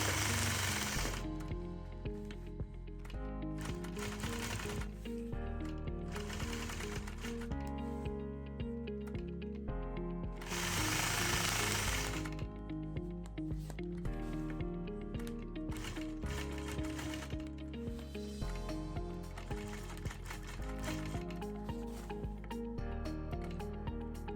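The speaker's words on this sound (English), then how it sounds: "Stitch my first echo line, slow down, travel around the corner on top of my previous stitch line" A sewing machine stitches echo lines around a quilt block, a steady mechanical whir with rhythmic needle clatter running nearly the whole time, close and fairly loud, with brief pauses and bursts where the stitching speeds up or slows.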